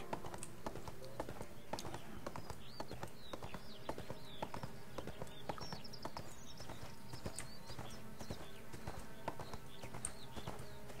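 Hooves clip-clop in a steady, even walking rhythm from a level 7 horse mount in the online game ArcheAge, close and continuous with game ambience and no talk.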